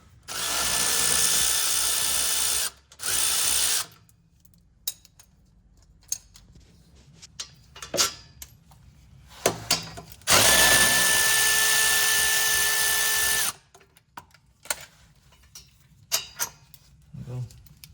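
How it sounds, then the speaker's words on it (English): A power tool loosens bolts on a Mazda Miata NA/NB differential during a Torsen limited-slip swap, running in loud whirring bursts of a few seconds each, separated by quieter clinks and handling noises. "go ahead and loosen the bolts"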